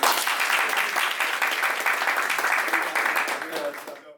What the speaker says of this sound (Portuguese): quando estalar os dedos, todo mundo aplaude e o Marco vai desaparecer, ok?